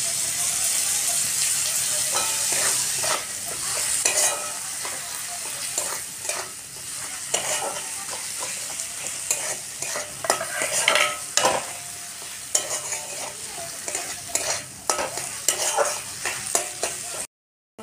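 Chopped tomatoes frying in a pan with cauliflower and potato masala, a steady close hiss of sizzling oil broken by repeated scraping and stirring clatter, with no talk.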